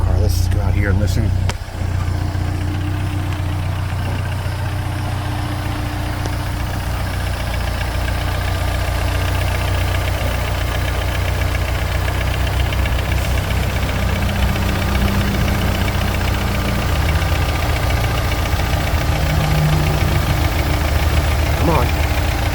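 A restored 1952 MG TD's engine idles in a steady, low mechanical drone with a faint knocking pulse, joined by a sharp thump near the start and a voice speaking over it at times.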